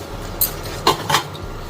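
A spoon scrapes and clinks against a metal pan while ground sesame seeds are stirred for til laddu, a few sharp metallic taps standing out over a faint cooking hiss, close by and without talk.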